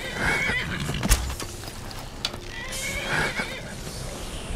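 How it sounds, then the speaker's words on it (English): Horses under attack in the video game Skyrim whinny and neigh repeatedly, loud and close, with hoof clip-clops and impact thuds in between. "They're attacking the damn horses."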